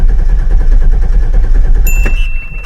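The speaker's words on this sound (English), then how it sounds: "I'm just going to depress the gas pedal all the way down to the floor, and then I'm going to crank it" A car engine cranks with the gas pedal floored in clear flood mode, making a loud, steady, rhythmic low churning that runs throughout and then trails off near the end, with a brief high tone.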